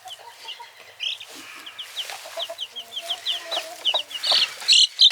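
Hen and chicks in a backyard coop: soft low clucks mix with rapid, high, repeated chick peeps that grow louder and busier toward the end, all close up.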